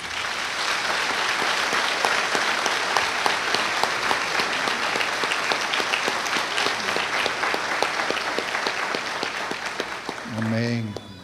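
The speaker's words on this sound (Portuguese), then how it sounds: "Vamos receber esses amados com aplausos." A church congregation at a couples' conference applauds to welcome guests, loud continuous clapping from a large crowd with voices mixed in, ending with a brief spoken word.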